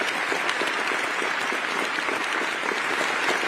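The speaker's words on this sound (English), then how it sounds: "I think you should clap for them." A crowd at a military change of responsibility ceremony claps steadily, a full even burst of applause at close range for a few seconds with no voices.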